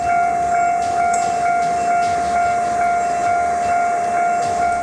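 A train passing a railroad crossing in Kyoto, heard as loud, steady rail noise under a continuous tonal crossing signal, with no talk.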